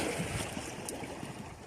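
Water flowing outdoors nearby, a steady broadband rush with soft wind-like hiss, fairly faint and unbroken over the short stretch, with no voices.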